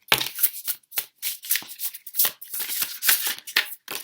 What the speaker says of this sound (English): Let's continue as I already have been shuffling